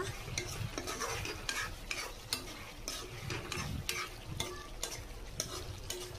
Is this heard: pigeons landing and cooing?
no